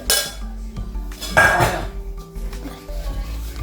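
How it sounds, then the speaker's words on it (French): A cooking pot is handled and emptied during homemade coconut oil making, giving loud metallic clanks and scrapes against other pots and utensils, with a burst of clattering in the middle and lighter clinks around it. "J'ai tout vidé la marmite."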